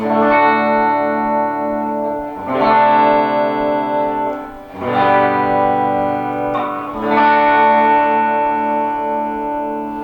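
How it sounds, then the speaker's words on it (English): Clean-tone electric guitar chords from a Flying V kit guitar ring out one after another, each strum struck roughly every two seconds and left to sustain, with no talking. "We're going to start off with some clean tones, just some chords"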